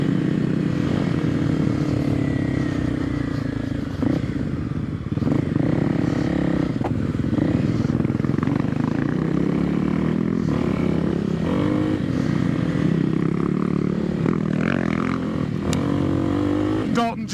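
A Kawasaki KLX 300 dual sport motorcycle riding off-road in Floyd, Virginia, a continuous loud engine drone with shifting revs, rattles and wind buffeting, with a voice talking over it.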